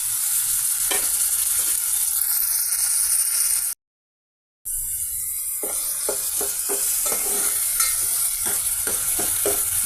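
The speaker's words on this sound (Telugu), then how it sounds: "పెద్దల్లిపాయ పీసెస్, పచ్చిమిర్చి పీసెస్తో ఈ టమాటా ఒక 2 నిమిషాలు, 1 నిమిషం పాటు ఈ విధంగా ఫ్రై అవనిద్దామండి" Tomato pieces frying in a pan with onion pieces, green chili and ginger-garlic paste, giving a steady loud sizzle with scattered stirring clicks, broken by a short gap of silence.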